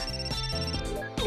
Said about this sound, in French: Le téléphone coquillage.